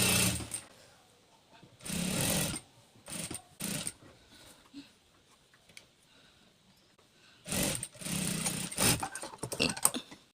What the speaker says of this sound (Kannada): ಲೈನಿಂಗ್ ಮೇಲೆ ಇಟ್ಕೊಂಡು ನಾನು ಸ್ಟಿಚ್ ಹಾಕ್ಕೊಂಡು ಬರ್ತೀನಿ